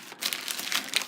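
A book mail package is ripped open in one brief burst of tearing and crinkling paper, close and moderately loud, lasting about a second.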